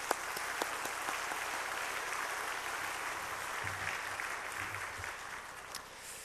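A church congregation applauds a visiting pastor at a Wednesday service, a steady wash of many hands clapping across the room at moderate volume, with no clear talk over it.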